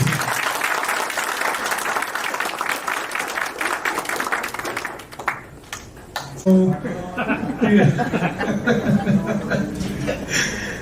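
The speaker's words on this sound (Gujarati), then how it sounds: "એકવાર ગળગળાટ તાળીઓ" An audience at a medical center event breaks into dense, loud applause that fills the first half, then thins out as laughter and chatter rise in its place.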